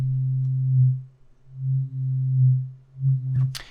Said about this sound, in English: we're going to switch this back to a sine wave